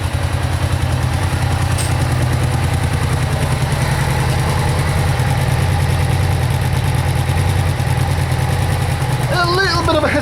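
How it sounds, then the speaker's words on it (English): A Suzuki VX800 motorcycle engine idles steadily after its carburettors were cleaned, a continuous low throb running alone throughout, with a brief faint rise in pitch near the end. "Seems to be holding the idle pretty well at about"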